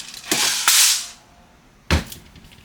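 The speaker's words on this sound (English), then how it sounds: "So you guys ready for me to dry fire it?" An Army Armament R604 airsoft gas pistol, an STI DVC 4.3 style, being dry fired: a sharp crack with a hissing gas burst, then a second close snap a moment later, loud and near with no speech.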